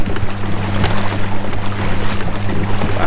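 Pedal kayak pushed fast across open water, a steady close rush and splash of water against the hull with wind noise and a low droning hum throughout.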